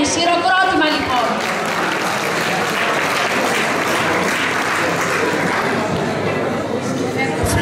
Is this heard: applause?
yes